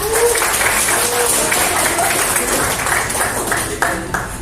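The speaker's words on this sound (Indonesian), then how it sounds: "kita beri tepuk tangan" A classroom of students applauds a group presentation in a lively, uneven patter of hands, with a few sharper claps near the end and faint voices mixed underneath.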